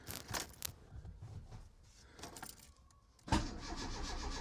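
A car engine cranks with uneven starter churning for a few seconds, then catches and fires up with a sudden louder burst, settling into a running idle at close range.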